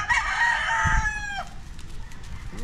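A rooster crows once, loud and close, in a backyard farm in San Agustin, Ibaan, Batangas, with a long drawn-out call that fades out, followed by quieter farmyard noise.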